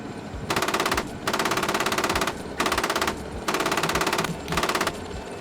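M1A2 Abrams tank coaxial machine gun firing at troops, four long, loud, steady bursts of rapid automatic fire separated by brief pauses.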